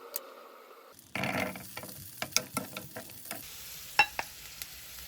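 Garlic hits a pan of hot olive oil and melted butter for a chopped steak dish, a quiet start bursting into steady sizzling with repeated sharp clicks and scrapes of stirring, close and alone without talk.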